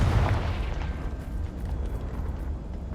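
A Confringo blast spell explodes in the video game Hogwarts Legacy with a deep boom at the start, followed by a rumbling, crackling decay fading over a few seconds.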